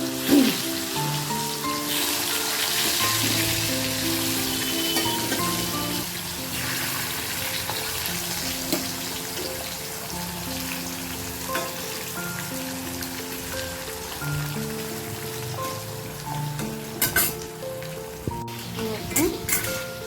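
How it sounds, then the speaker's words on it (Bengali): Potatoes frying in hot oil give a steady, close sizzle and crackle throughout, with tonal music playing over it and a few sharper clatters near the end. "আলুগুলো অলমোস্ট ফ্রাই হয়ে গিয়েছে"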